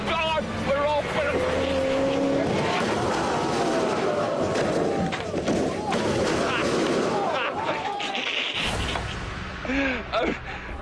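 A car under hard braking on a TV motoring show test track skids and crashes, a loud, continuous rumble and screech with an abrupt impact-like cut near the end, while voices talk over it.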